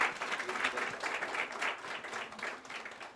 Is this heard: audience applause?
yes